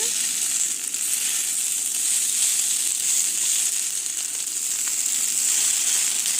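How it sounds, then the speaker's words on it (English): Hash browns for corned beef hash sizzle and fry steadily in a hot pan as they are flipped, a continuous close crackling hiss with no voices. "I'm going to start trying to flip these hash browns over"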